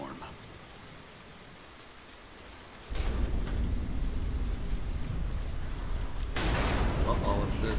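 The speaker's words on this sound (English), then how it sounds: "Damn storm." Heavy rain and a thunderstorm in the video game Deadlight, a soft drizzle that suddenly swells into a loud, dense downpour with rumbling thunder and a sharp crack near the end.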